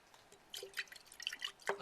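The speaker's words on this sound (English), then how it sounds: "So watch this. 1 drop." A single drop of solution falls into acid during a chemistry demonstration, a faint, tiny drip among soft, small liquid sounds.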